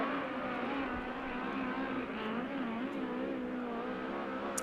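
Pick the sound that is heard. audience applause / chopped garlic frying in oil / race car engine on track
race car engine on track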